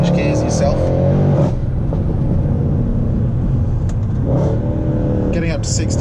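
A 2013 Mercedes C63 engine pulling hard under acceleration in manual mode, a loud, deep rumble heard from inside the car that rises through the revs, drops briefly at a gear change, then climbs again.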